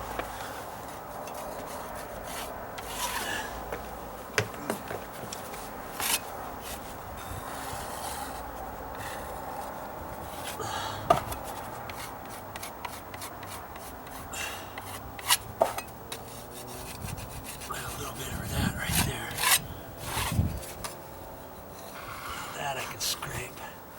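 A tool scrapes across a dry-rotted wooden deck step outdoors, producing irregular rough rasping strokes with sharp clicks and ticks, close and moderately loud, while a person talks throughout.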